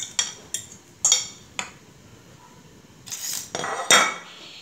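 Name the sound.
mixing fried vegetables together in a pan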